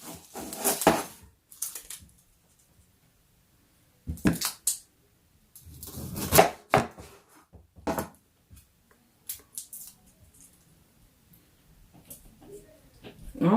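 Onion being handled and cut on a kitchen surface while making a vegan pot roast, with several sharp knife knocks and papery handling sounds in separate bursts and quiet gaps between.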